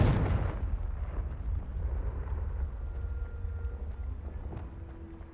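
Confringo explosive spell in Hogwarts Legacy, a sharp blast at the start that decays into a low rumbling roar and fades quietly over several seconds.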